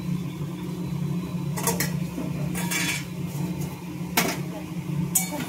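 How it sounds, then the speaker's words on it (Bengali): Boiled banana flower being stirred with spices in a pan, giving a few scattered scraping and clinking utensil strokes over a steady low hum of kitchen background noise. "এবার ভালোভাবে মশলার সাথে কিন্তু এটাকে মিশিয়ে নিতে হবে।"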